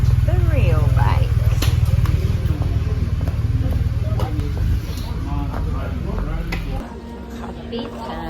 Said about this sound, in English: We have the motorbike and then the real bike.